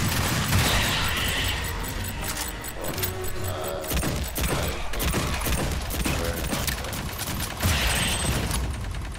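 An auto-turret in Aliens Fireteam Elite fires at Xenos in rapid, continuous volleys, loud and dense. Clattering impacts and chaotic combat noise crowd in around the shots.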